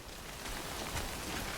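Steady rain pours down in the video game Death Stranding, a dense, even hiss of drops spread across the clip with no talk over it.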